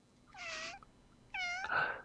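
A house cat gives two clear meows, close and moderately loud, the second one longer and rising. A short pause separates them and no one talks.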